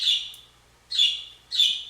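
Birds squawk in three loud, shrill calls at roughly regular intervals, close by, with quiet gaps between them and no talking.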